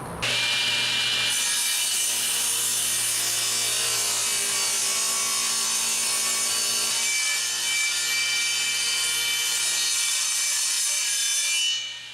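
Table saw cutting a tapered wooden dining table leg on a tapering jig, a loud sustained whine of the blade through wood starting after a brief spin-up and running steadily until it winds down.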